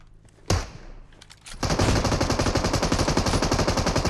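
Rapid automatic gunfire in PUBG Mobile, starting with a single sharp shot, then a dense, loud, continuous burst of fast shots that runs to the end.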